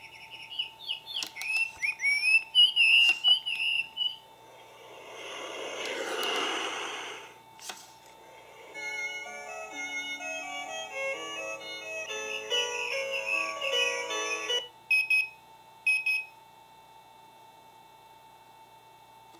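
Gen 3 sunrise wake-up light alarm clock cycles through its nature sound options: chirping birds, a soft rushing water-like wash, then a tinkling melodic chime, each in a short sample separated by brief gaps.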